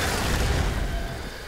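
Explosion from an elemental arrow striking enemies in the video game Skyrim, a dull, sustained rumbling boom that fills the moment at moderate loudness with no talk over it.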